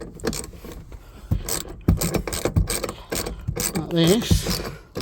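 A rear seatbelt retaining bar in a three-door MK6 Ford Fiesta is bolted back into place, with quick ratcheting clicks, metallic clinks and handling knocks up close, while a brief spoken remark occurs.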